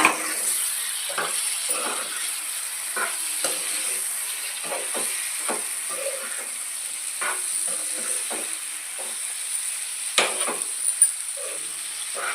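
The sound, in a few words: frying raw small fish (mettalu), Konaseema style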